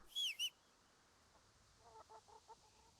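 Chickens in the medieval game Kingdom Come: Deliverance give a sharp, close squawk or cluck burst at the start, then a faint run of soft clucks over a quiet farmyard ambience.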